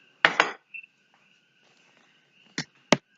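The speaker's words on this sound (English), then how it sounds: "we're going to use our bacon-ass contaminated spoon to stir the bitch up" A metal spoon clinks against the side of a cup or bowl while stirring milk, a couple of sharp scraping knocks at the start, then quiet, then two more distinct close taps.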